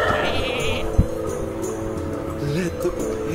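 A sheep bleats as a sound effect in the Hearthstone card game, layered over steady game music and effects, with a voice talking throughout.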